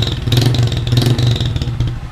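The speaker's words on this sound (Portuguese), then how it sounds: "E esse é o barulho original da moto." A motorcycle engine with its stock exhaust revs in short pulsing bursts, a loud, rough, throaty exhaust note rising and falling close by.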